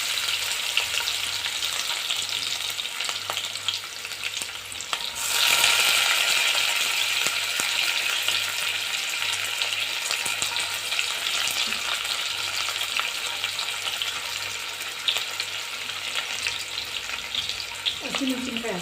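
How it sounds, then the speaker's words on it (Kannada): Chopped onions hit hot oil with spluttering mustard seeds for a restaurant-style dal khichdi. A loud sizzle bursts up midway and then settles into a steady, close frying hiss with occasional stirring clinks. "ಈಗ ಸಾಸಿವೆ ಸಿಡಿದ ನಂತರ ಈರುಳ್ಳಿ ಹಾಕೋತಾ ಇದ್ದೀನಿ."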